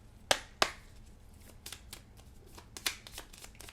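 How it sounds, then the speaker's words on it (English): A deck of tarot or oracle cards being shuffled by hand, giving a few sharp riffling bursts followed by softer, quicker card flicks, close and fairly quiet with no talking. "I'm going to give it a good shuffle to clear the energy out of the deck."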